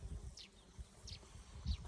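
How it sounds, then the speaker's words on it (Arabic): Bees buzzing around Hijazi alfalfa at an apiary, faint intermittent buzzing passes with soft low thumps and rustling close to the recorder. "شوف هاي النحل"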